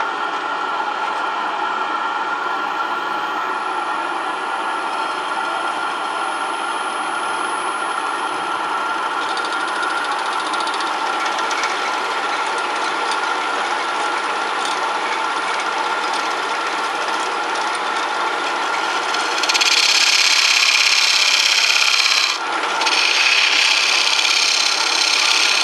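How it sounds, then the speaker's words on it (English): A 1/4-inch gouge cuts a dovetail into a large natural edge cherry bowl spinning on a lathe, giving a steady, close scraping and rasping hiss that runs throughout and grows louder and brighter near the end. "I'm going to make the dovetail, and for that I'm going to use a 1/4-inch mold gouge."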